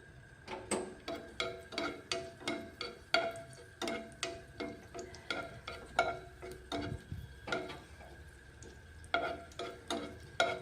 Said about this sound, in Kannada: ಇವಾಗ ನೋಡ್ರಿ ದ್ರಾಕ್ಷಿ ಕರ್ಕೊಳ್ಳೋಣ